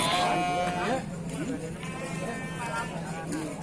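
Sheep bleat at the Cilongok livestock market in Banyumas, a clear nasal cry near the start rising over steady market babble and people talking nearby.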